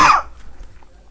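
A single sharp, close cough from a man in a quiet room, a loud burst that fades quickly into near silence.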